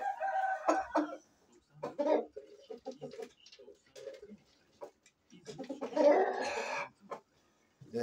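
A rooster being trained clucks in short bursts, then lets out a louder crow toward the end, close by against a quiet background.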